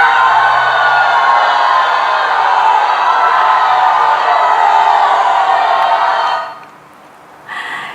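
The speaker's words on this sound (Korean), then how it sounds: "이렇게 이스라엘 백성들의 기쁨의 환호성을 지르며 하나님의 인도하심을 따라 나아갑니다" A joyful crowd of Israelites cheers in a dense, sustained roar of many voices that stays loud and steady, then drops away abruptly near the end.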